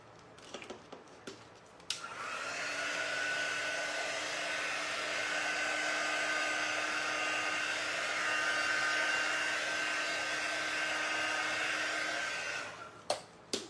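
A hair dryer blows steadily for about ten seconds while drying a craft tray, switched on and off with short clicks and handling noises at either end.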